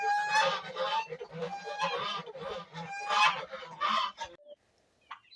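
Loud, busy honking and quacking from a group of ducks and ducklings close by, calling over one another continuously before falling quiet near the end.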